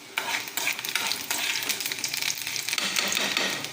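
Urad dal fries in hot oil in a pan where tamarind is already heating, giving a bright, crackling sizzle broken by the repeated scrape and clatter of stirring, close up and with no talking.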